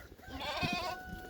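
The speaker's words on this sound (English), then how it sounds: "2 lambs over there checking out the bucket." A lamb on a farm gives one short, wavering bleat close by, a quick shaky cry lasting about a second.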